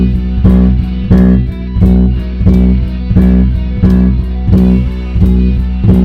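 Fingerplucked bass guitar exercise alternating fingers, played along with a steady backing track; regular low plucked notes and beat pulses repeat evenly throughout, close and loud with no talking.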